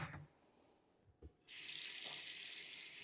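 A kitchen faucet is turned on and runs water into a sink with a steady, loud rush, starting after a short quiet stretch and a few light clunks, as water is added over chicken for cornbread dressing.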